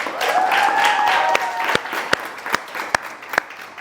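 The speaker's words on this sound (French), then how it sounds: "J'ai envie qu'on applaudisse." Audience applause at a French interview show with a singer: steady clapping from a studio crowd, with a sung or held tonal line briefly over it, the claps thinning out toward the end into a few sharp isolated hand claps.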